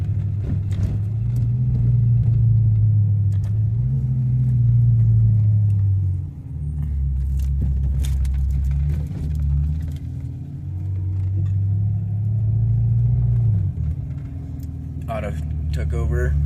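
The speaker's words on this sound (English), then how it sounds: "Let's go ahead and paddle shift, downshift." A 2010 Ferrari California with a gearbox and transmission fault code running under a paddle-shift downshift. A loud, steady engine drone shifts pitch around each gear change, with a faint voice talking over it.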